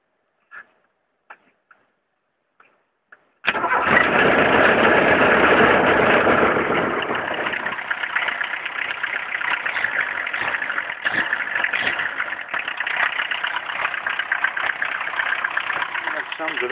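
A diesel engine, primed after running out of fuel or sitting a long time, starts abruptly after a few faint clicks and settles into a loud, steady, close idle for the rest of the time.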